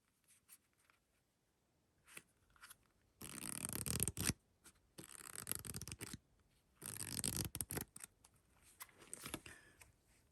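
Playing cards are handled and shuffled for a game of Solitaire in bursts of close, soft riffling and sliding, separated by quiet pauses.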